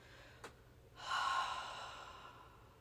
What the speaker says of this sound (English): Open that mouth and slowly exhale.